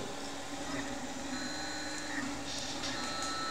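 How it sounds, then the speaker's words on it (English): A 3D printer primes its nozzle with a steady, close mechanical whir and hum, and faint higher motor tones shift near the end. "It is now just start priming the nozzle. Basically, just squirt some out to get the everything working."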